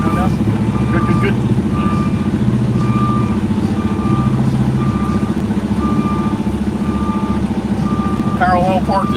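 Truck parallel parking on a street between parked cars, its reversing alarm beeping at an even pace over the loud steady idle of the engine, with a brief voice near the end.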